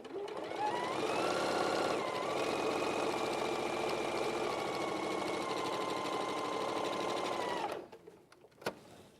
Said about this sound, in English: And I'm just going to sew this one down that I haven't trimmed.